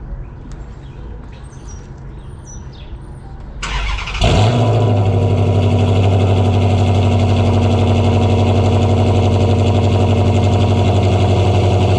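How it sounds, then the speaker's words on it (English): Birds chirp faintly before a 2013 Dodge Charger R/T engine cranks and fires up, settling into a loud, steady, deep-toned idle through a burbling, newly fitted SLP Loudmouth catback exhaust with BBK headers. "we're gonna do the first start with the new exhaust"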